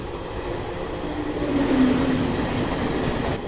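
A passing train heard from the open door of a moving Garib Rath express between Chennai and Delhi, a loud continuous rumble and rush of wind with a brief higher whine midway.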